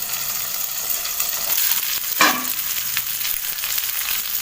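Semolina-coated fish sizzles steadily in a pan over a medium flame, a soft, continuous crackling hiss, with one brief louder scrape or stir partway through.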